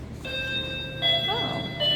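House doorbell chime with no volume control, a sustained tonal chime ringing in steady layered tones with a second note entering midway, fairly loud indoors under a low room hum.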